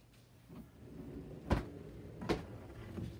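A door in a bedroom is pushed shut, giving two soft thuds about a second apart over low room noise.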